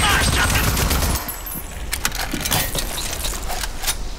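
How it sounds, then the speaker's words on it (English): Shotgun blasts in the video game Rage 2, a loud burst at the start followed by scattered sharp cracks and clatter amid gameplay noise. "Oh no, shotgun."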